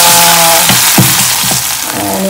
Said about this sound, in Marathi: डायरेक्ट तुपाची आपली फोडणी द्यायची खीरला